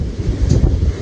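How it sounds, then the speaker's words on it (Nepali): Strong wind buffets the microphone outdoors in a steady, loud, low roar that swells and gusts for about a second, with no talking. "कति धेरै हावाहुरी लगाइरहेछ"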